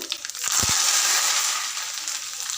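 Mustard seeds, cumin, dried chillies and curry leaves go into hot oil for a tempering and give off a loud, steady sizzle and crackle after a few quick pops.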